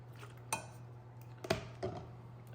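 A utensil clinks against a bowl as vanilla is mixed into cookie icing: a few sharp taps and scrapes, quiet and close, over a low steady hum.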